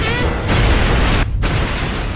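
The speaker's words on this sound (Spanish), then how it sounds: "Y no puedo no mencionar todas las explosiones que metieron." Explosion in a film, a loud dense roaring blast of broadband noise that fills the whole clip with a brief dip in the middle.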